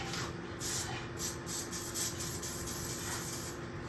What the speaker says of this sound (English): We're just going to spray a little bit in this cup here.